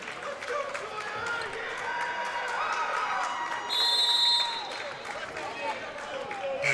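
A big hometown crowd at a Truett McConnell vs. Reinhardt women's college basketball game cheers and applauds after a player's 1,000th career point, a steady roar running under commentators' talk with a whistle-like tone partway through.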